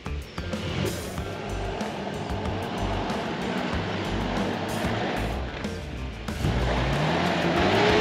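A 2001 Toyota Hilux 4x4 with a petrol engine crossing a waterhole in the Glasshouse Mountains, a steady engine roar with rushing, splashing water throughout, swelling louder near the end.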